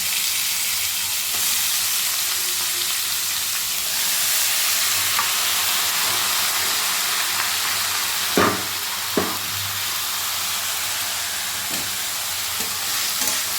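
Chopped ash gourd, added to a tempering of spices and later cooked with prawns, is stirred in a frying pan: a constant sizzle with a few sharp scraping knocks of the spatula partway through.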